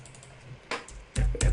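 A few keystrokes tapped on a computer keyboard while entering a colour code, two soft clicks followed by a louder thud of a key press, close and brief, with no talking.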